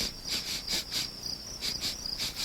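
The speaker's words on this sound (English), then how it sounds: "The night is alive with creepy crawlies, Henry," Night insects, likely crickets, chirp in steady pulsing bursts, a shrill continuous trill swelling and fading in a rhythmic pattern, fairly close and alone with no voices.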